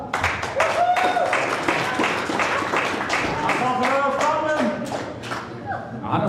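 An audience at a darts club championship final gives a round of applause, with clapping bursts mixed with voices talking over it at fairly close range.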